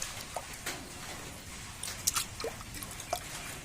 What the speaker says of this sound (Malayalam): അപ്പോൾ അതേപോലെ നമുക്ക് ബാക്കിയുള്ള പ്ലാന്റ്സും കഴുകിയെടുക്കാം.